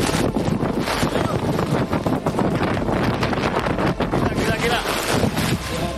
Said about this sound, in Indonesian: Video amatir merekam detik-detik pohon tumbang saat diterjang angin kencang